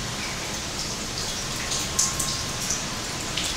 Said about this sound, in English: The rain became much heavier,